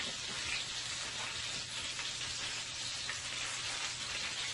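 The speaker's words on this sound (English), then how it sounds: "I'm not frying with a lot of oil." Buttermilk-battered chicken pieces sizzle steadily in a pan with only a little oil, a dense, even crackle of frying that holds close and constant throughout without talk.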